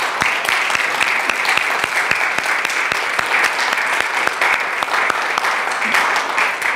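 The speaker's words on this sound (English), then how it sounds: "I want you to stand and give them a great big round of applause" At a church graduation ceremony, a standing congregation applauds a couple with brisk, sustained clapping. Distinct sharp claps stand out above a dense, steady wash of hands, with no talking.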